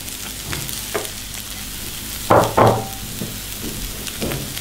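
Finely chopped carrots frying in a pan under a steady sizzle, with two louder, close scraping stirs near the middle and softer stirring knocks before and after.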